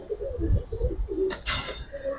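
Giribaz pigeons cooing close by in a loft, with several soft throaty coos in a steady rhythm and a brief flutter of higher sound partway through.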